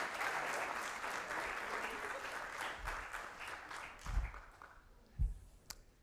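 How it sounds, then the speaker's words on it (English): A crowd applauds award recipients at an innovation challenge ceremony, a sustained round of clapping that gradually fades, leaving a few scattered claps and thumps near the end. "Give them another round of applause"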